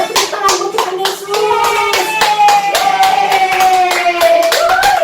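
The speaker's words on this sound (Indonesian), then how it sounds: "tepuk tangan buat Tuhan Yesus" Children clap their hands in a steady, rhythmic beat during an online Sunday school worship session for young kids, with sung vocals and a voice carrying over the repeated claps.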